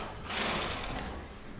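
A knitting machine running close by, a brief mechanical rattling whir with a bright metallic edge that swells and then settles, with no talking.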